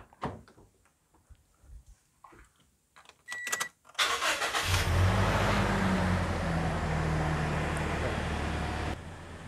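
A Toyota Innova Reborn with automatic transmission: a few clicks and a door-like clunk, then the engine starts and settles into a steady, loud idle that runs to the end, no talking.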